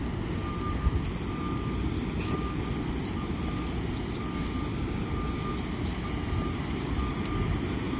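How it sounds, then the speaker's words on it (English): Faint, regular high-pitched reversing beeps repeat over a loud, steady rumble of engine noise. "The truck started beeping again right here at the fork of the path."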